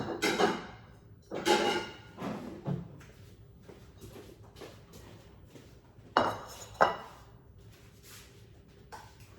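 Dishes and cutlery clinking and clattering in a kitchen while bowls of Texas chili are served, with several distinct knocks and clunks spread out over a quiet background.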